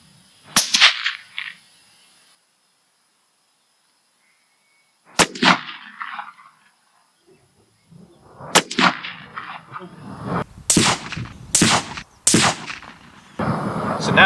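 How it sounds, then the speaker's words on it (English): Rifle shots fired through a scope during a three-shot group: a few loud, sharp reports separated by quiet gaps, followed by closer clattering thuds and clanks. "take a 3-shot group using just the scope without the NiteSite fitted"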